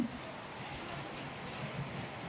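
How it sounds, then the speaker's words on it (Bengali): Heavy rain pours down in Dhaka as a steady, dense hiss of rainfall with no voices, even and unbroken for a couple of seconds. "প্রচুর বৃষ্টি নামছে, প্রচুর বৃষ্টি।"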